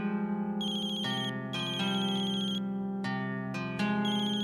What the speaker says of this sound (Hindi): एक सेकेंड, मेरा फोन।